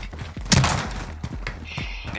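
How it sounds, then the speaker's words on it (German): Gunfire in a search-and-destroy match of a PS4 shooter game, a sharp close blast followed by a few muffled thuds and distant shots in game ambience. "Feinde da drüben! Feindbeschuss!"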